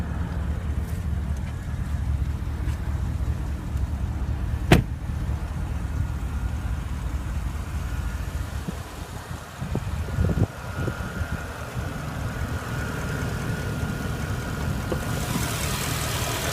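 A 2015 Porsche Panamera Turbo with a 4.8-liter twin-turbo V8 idles steadily, a low, even rumble held throughout, with a few brief clicks and shifts in the background.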